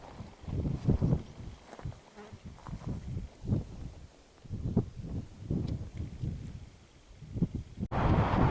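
Wind gusts on a Scottish hilltop hit the microphone with heavy, low, buffeting rumbles that rise and fall irregularly, loud and close throughout.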